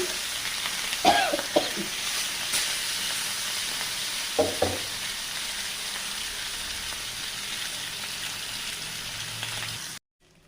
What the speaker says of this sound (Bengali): এবার কাতলা মাছগুলো ভেজে নেব